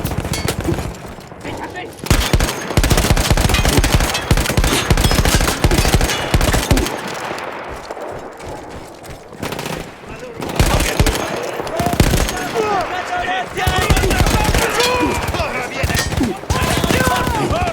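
Battlefield machine gun fire on the Italian front against Austro-Hungarian troops: rapid, loud, close bursts of automatic fire with brief pauses, over a busy battle din, with voices heard at times.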